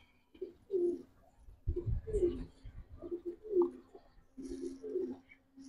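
A racer pigeon coos close by in repeated short rolling phrases separated by brief pauses, with light background rustling.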